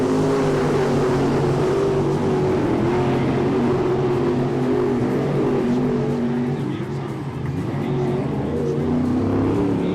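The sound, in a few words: late model race cars racing in heat race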